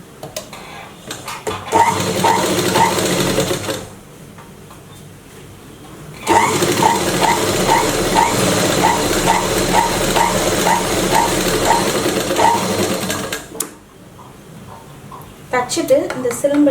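A sewing machine stitches a folded blouse patti in bursts of rapid, rhythmic clatter, with pauses between runs and someone talking over parts of it.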